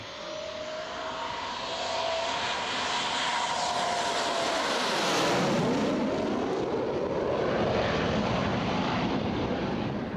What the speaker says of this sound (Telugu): 4 Sukhoi fighter jets trial run నిర్వహించారు.